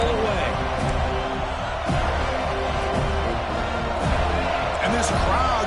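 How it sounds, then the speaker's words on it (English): Stadium crowd at a college football video game matchup, FSU versus Alabama, roars as a steady, dense wash of cheering throughout, with a commentator talking over it. "And this crowd coming to life here, trying to help the defense get a stop"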